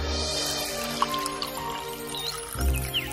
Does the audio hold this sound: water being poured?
yes